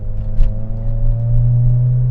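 A car engine hums and rises in pitch, revving toward 7,000 RPM on a mountain road, a steady close drone that swells and holds strong toward the end with no talk.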